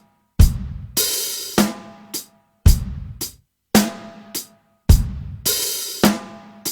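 A drum kit groove built around an open hi-hat: splashy, sustained hi-hat washes alternate with tight closed chicks and kick and snare hits, repeating in a steady pattern, close and alone.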